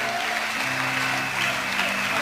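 A church congregation applauds the Lord in a steady, dense burst of clapping that holds at an even level throughout.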